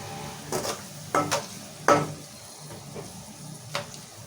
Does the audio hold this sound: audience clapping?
no